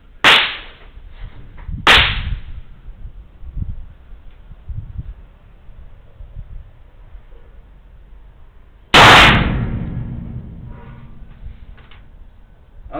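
Black powder shots from a Remington 1858 Uberti .44 revolver on a 25 m range: a sharp near blast, a second about two seconds later, then a long gap before a third loud report with a ringing decay.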